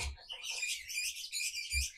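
A male lovebird gives a rapid series of sharp, high chirps and trills, close and clear, with brief soft thumps between calls.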